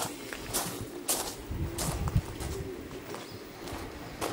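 Racing pigeons coo and shuffle inside a loft aviary, soft low cooing bursts recurring over a steady murmur of birds close by, with faint flutters and footsteps.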